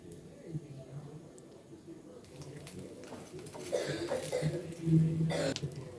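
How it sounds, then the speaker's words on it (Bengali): A sick boy coughs a few times, harsh bursts close to the mic, over muffled household background voices. "ছেলেটার ভীষণ কাশ হয়েছে"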